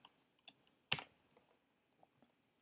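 Code being typed on a computer keyboard, sparse and quiet key clicks with one louder clack, irregular pauses between strokes, no talk.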